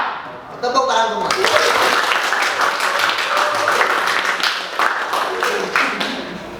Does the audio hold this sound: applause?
yes